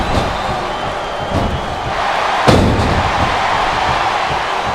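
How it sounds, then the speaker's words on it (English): A virtual arena crowd in the WWE SmackDown vs Raw 2008 wrestling video game cheers as a continuous roar, with a single sharp slam-like thud partway through and no commentary over it. "I think these superstars are getting some feedback from the crowd, JR."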